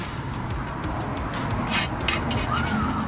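A hand file scrapes across a lawnmower blade in short, rasping strokes, a few sharp bursts standing out over a low background rumble.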